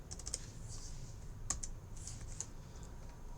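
Keys tapped on a calculator during maths exam practice, a steady run of light, quick clicks with a few sharper presses, close by and fairly quiet with no talking.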